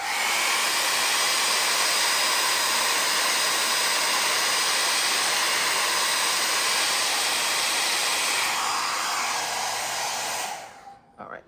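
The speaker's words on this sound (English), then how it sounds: "I'm going to hit it with a blow dryer for about 1 second here." A hair dryer roars steadily at close range for about ten seconds, drying a watercolor painting, then cuts off abruptly at the end.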